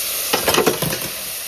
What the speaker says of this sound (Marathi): आता कोलिंब म्हणजे आपला जवला टाकलाय, त्याला पण परतवून घ्यायचं ना हो